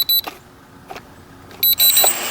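A JJRC X1 drone arms with short, bright electronic beeps, then its motors give a brief rising whine. The sound is close and loud, with a quiet pause between the bursts.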